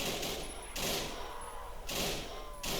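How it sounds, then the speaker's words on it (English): FG42 machine gun firing at zombies in a Roblox zombie game, bursts of loud near gunfire arriving in three or four separate volleys with brief gaps between them. "it's pretty easy to take them out with this FG42 machine gun"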